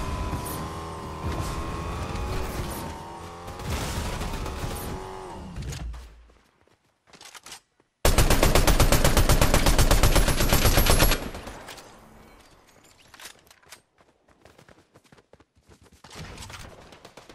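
Gunshots in Fortnite Chapter 5: a loud, dense burst of rapid automatic fire lasting a few seconds, followed by scattered faint shots and clicks, after an opening stretch of music-like tones.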